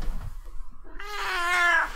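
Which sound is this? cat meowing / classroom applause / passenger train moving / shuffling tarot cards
cat meowing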